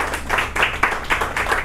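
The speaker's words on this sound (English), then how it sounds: "everybody give a big shout out, a big round of applause for the Kula Cafe" An audience at a Kula Cafe performance event clapping in a short, steady burst of applause, close and moderately loud.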